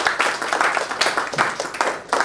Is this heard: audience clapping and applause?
yes